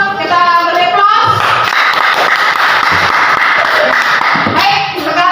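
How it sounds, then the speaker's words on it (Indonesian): An audience gives a group a round of applause in a classroom, dense steady clapping from many hands lasting several seconds, with voices heard over it at the start and end. "Kita beri aplaus"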